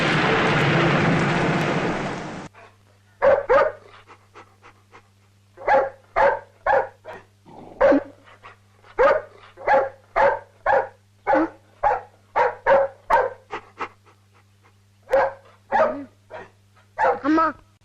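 A dog barks repeatedly in a steady series of sharp, close barks, after a brief burst of rain-like noise at the start.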